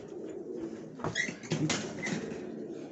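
Pigeons coo softly in a pigeon loft, with a few low murmuring calls and faint rustles and pecking sounds rising briefly in the middle of a quiet, steady background.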